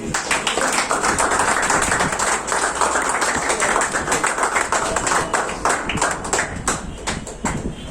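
Many hands applauding at a seminar, a continuous crowd clap with a slightly uneven, pulsing rhythm that holds strong for eight seconds and eases a little near the end.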